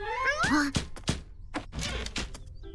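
A cartoon kitten from the Mole and Panda children's animation gives a sliding, high meow at the start, followed by a few soft thuds and knocks, with no speech.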